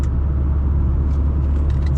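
A 2013 Chevy Spark LT small car on the move, with a loud, steady low road rumble and engine hum throughout and no talking.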